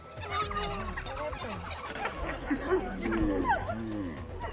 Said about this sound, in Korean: 그런데 갑자기 한 수사자가 전속력으로 달려와 새끼 한 마리를 물어버립니다